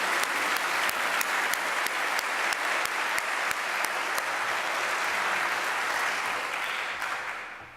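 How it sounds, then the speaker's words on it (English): An audience applauds a brass group at a campus event, a steady wash of clapping with rhythmic sharper claps cutting through at first, fading out toward the end. "Can we please give them a round of applause?"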